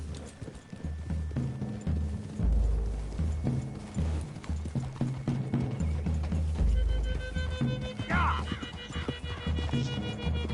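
Horses gallop in the Red Dead Redemption II video game, a continuous rhythmic clip-clop of hooves under a low rumbling game score, with a short shout partway through.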